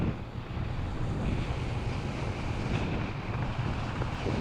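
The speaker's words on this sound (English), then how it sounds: "It's very windy today too." Strong wind roars across the microphone during a downhill road bike ride, a loud, continuous rumbling buffet with shifting gusts and no voices.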